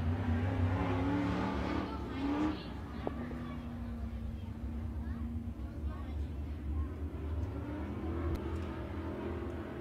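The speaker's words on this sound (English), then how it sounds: "it's Jesse Thompson in the 3X making his way across the infield" Race cars at a dirt oval speedway during a fall fair race, a steady loud roar of engines with one car revving and pulling away, under a continuous announcer's voice.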